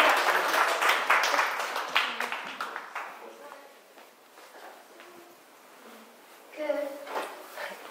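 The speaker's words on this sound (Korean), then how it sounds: "박수 한번 보내주세요" Audience applause at an artist talk concert for an AI art exhibition, a dense burst of clapping at the start that thins out and fades, with scattered voices and a brief louder stir near the end.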